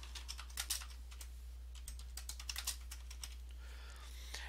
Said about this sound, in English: You just start typing right here